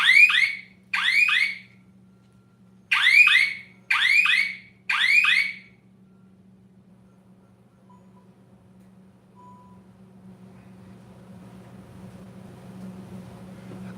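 A household smoke alarm set off by cooking a Cajun roast with rice and gravy sounds five loud, shrill electronic chirps in two quick bursts. A steady low hum follows, with faint kitchen noise rising toward the end.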